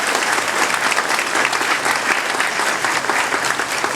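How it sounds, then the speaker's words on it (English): Dense, loud, continuous applause rises from the audience at the Winters Japantown Monument dedication, steady throughout with no voices. "Please join me in all the applause."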